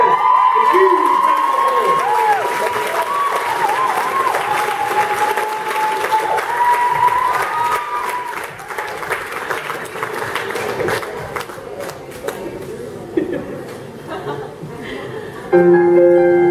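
Loud audience applause and cheering after a musical parody performance, a dense roar of clapping with whoops and chuckles that fades gradually, with a brief voice near the end.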